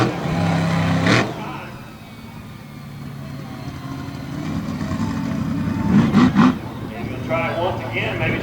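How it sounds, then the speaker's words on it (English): A big Chevrolet monster truck at a monster truck race in Lima, Ohio, its engine roaring loudly and surging in revs, with an announcer talking over the noise and a crowd-filled arena around it. "Showing off the horsepower in this big bad Chevrolet."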